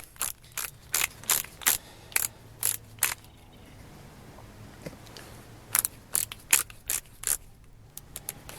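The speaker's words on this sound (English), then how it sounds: "I'm going to set the torque wrench to 71." A torque wrench being set to a value, its ratchet giving a run of crisp, regular mechanical clicks close by, a pause, then a second burst of clicks.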